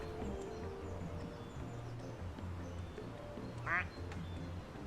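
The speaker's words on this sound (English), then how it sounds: "Quack." A plastic duck in the game Placid Plastic Duck Simulator gives a single short quack near the end, over a low steady background hum.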